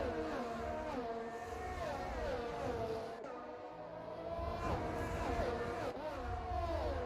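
Formula-style racing cars in a PC sim-racing league race at the Austria round, heard as faint engine whines that rise and fall as the cars accelerate and shift, layered over one another at a distance.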